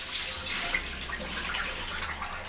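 Soaked tamarind water pours steadily into a pan while a fish stew is being made, a continuous close splashing and trickling liquid sound with a faint low hum beneath.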